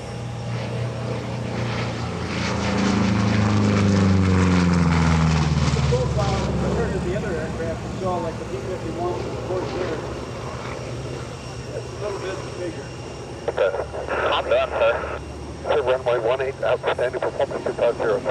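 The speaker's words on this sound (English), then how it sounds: "Bernie Vasquez in the award-winning P-47, a rare flying example" A P-47D Thunderbolt warplane, the rare flying example called "Bonnie", makes a photo pass at an airshow. Its loud propeller engine drone swells and then fades, and a commentator talks over it throughout.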